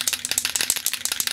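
An aerosol can of rifle bore cleaning foam is shaken hard, its mixing ball rattling in a fast, steady back-and-forth rhythm, close and alone.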